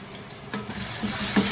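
Onion paste frying in four tablespoons of oil in a pan over medium heat, a steady close hiss of sizzling with small crackles, brief and moderately loud.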